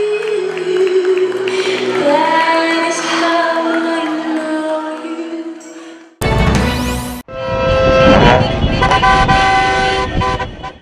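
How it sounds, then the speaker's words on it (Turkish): A convoy of cars in Karşıyaka blares horns in protest, long sustained loud honks layered and overlapping on a street, with a sudden break midway before more insistent honking resumes. "Karşıyaka'da konvoy oluşturan sürücüler, üniversite öğrencisi Özgecan Aslı'nın öldürülmesini korna çalarak protesto etti"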